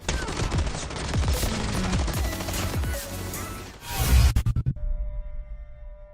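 Rapid bursts of submachine gunfire from the ROS in Call of Duty Mobile battle royale, loud and close, with dense overlapping shots that cut off abruptly near the end, leaving a faint electronic tone.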